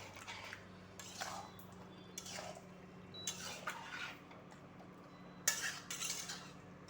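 Utensil scraping and clinking in a pan while chicken do pyaza is stirred, several soft separate strokes over a low steady hum, fairly quiet, with no voices.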